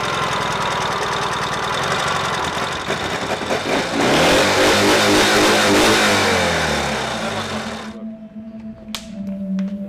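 Motorcycle engine running and revving up loudly for about eight seconds, with a sweeping rise in pitch around the middle, then cutting off to a quiet idle-like hum with faint background noise.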